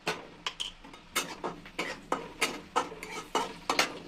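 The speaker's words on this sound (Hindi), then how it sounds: "अब जो ये मैंने मसाले लिए थे इनको मैं डाल देती हूँ" Rapid, irregular scraping and clinking of a utensil stirring spices into vegetables in a pan, with faint sizzling, close up and fairly quiet.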